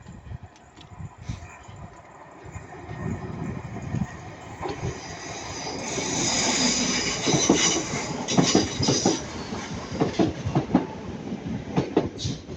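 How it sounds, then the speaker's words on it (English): A Northern class 323 electric train passes close by, a rising rumble and hiss swelling midway with rhythmic wheel clatter and clicks over the rail joints, continuing steadily to the end without speech. "We've got a 323 passing by."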